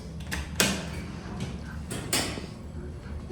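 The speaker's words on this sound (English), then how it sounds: "And now the door decides to close." A Southern traction elevator door at the Lineberger Center, UNC, closing with a sharp metallic clunk, a sliding rumble, then another loud clank, close by and fairly quiet.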